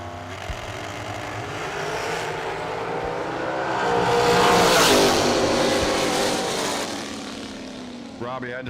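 Auto Fab Racing dragster at a bracket drag racing event, a loud engine roar that swells to a peak midway and then recedes down the strip, under a track announcer's commentary.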